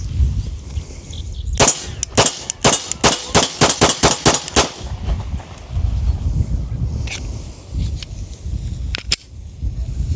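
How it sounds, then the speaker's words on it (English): A fourth-generation Glock 27 subcompact pistol in .40 caliber is fired with a full-size magazine. About ten sharp shots come in a fast string, followed by a couple more shots a few seconds later, all loud and close. "We'll go ahead and shoot the full-size mag in the little baby Glock"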